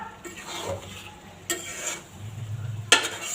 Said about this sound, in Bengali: আমি কিছুক্ষণ কষে এটা জাল দিয়ে ভালো করে একটু কষায় নেব